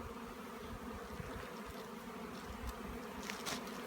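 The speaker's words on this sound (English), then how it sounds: "That's a very busy hive." Honey bees in a busy garden hive give a steady, dense buzzing drone, close and continuous with no voices.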